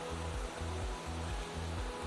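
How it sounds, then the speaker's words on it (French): Waterfall cascade near Nice heard from just above the falls: a dense, loud, constant roar of rushing water with a low rhythmic pulsing and no talking. "en fait on est au-dessus des cascades"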